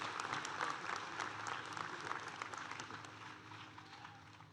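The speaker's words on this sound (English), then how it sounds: "Please join me again in a round of applause for all of our honorary degree recipients here today" A university commencement audience applauds its honorary degree recipients: sustained, dense clapping from a large crowd, steady and fairly distant, slowly tapering over several seconds.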